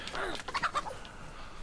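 A chicken in the DayZ game clucks in a quick burst of several short, close, fairly quiet calls, then falls silent.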